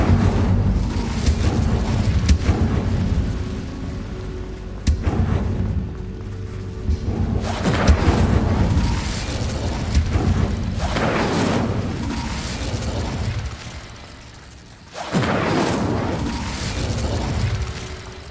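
The Incendio fire spell in Hogwarts Legacy bursts repeatedly with loud whooshing blasts. Each burst comes every few seconds and fades between casts, over a continuous rumbling game backdrop.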